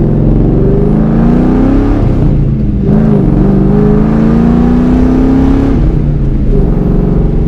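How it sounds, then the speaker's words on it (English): A car engine is revved repeatedly, its pitch rising and falling in long sweeps over a constant loud mechanical drone, close and with no talking. "I'm going to set the camera down, and I'm going to give you some revs"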